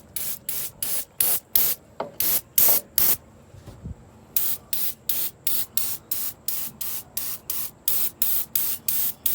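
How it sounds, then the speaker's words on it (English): Repeated short bursts of aerosol spray hiss in a steady rhythm onto a 1968 Ford Mustang engine bay, close and loud, with a brief pause partway through. "Continue spraying this on here."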